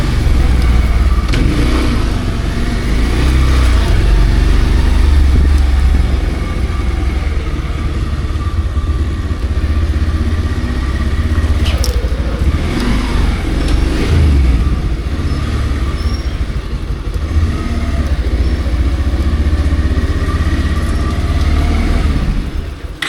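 A Bajaj Pulsar 150 BS6 2022 motorcycle riding in third gear, its engine droning loud and steady throughout with wind rush, recorded close on the bike.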